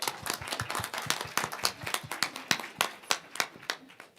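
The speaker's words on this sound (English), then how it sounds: "A round of applause for team number 1." Hackathon audience applauding team number 1, a small crowd clapping in sharp, uneven claps that are brisk at first and thin out toward the end, with no talking over them.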